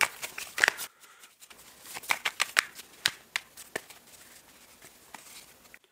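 Close, crisp riffling and slapping of tarot cards being shuffled in quick irregular bursts, with soft tapping as the deck is squared between shuffles.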